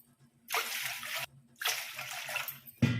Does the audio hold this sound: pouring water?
yes